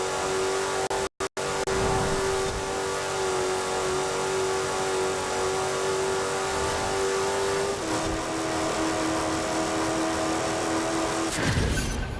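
A 250-horsepower car engine in Forza Horizon drones loud and steady as it accelerates, holding one pitch before dropping slightly as it shifts gear, with a brief cut near the start and no talking.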